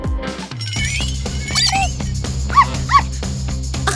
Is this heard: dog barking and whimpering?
yes